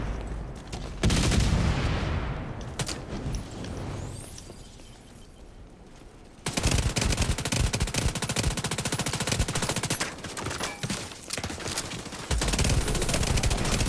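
An MPX submachine gun fires in The Division 2 in several bursts of rapid automatic shots, loud and close, separated by brief pauses and quieter stretches.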